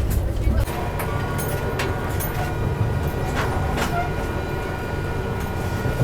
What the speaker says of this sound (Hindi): अभी अपनी ट्रेन स्किप मार रही है हजरत निजामुद्दीन रेलवे स्टेशन।